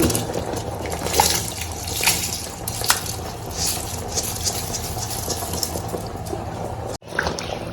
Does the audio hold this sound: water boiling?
yes